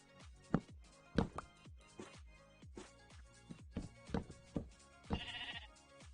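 Several short bleats from a sheep sound one after another at irregular intervals, fairly close and sharp, with quiet gaps between and one longer, higher-pitched call near the end.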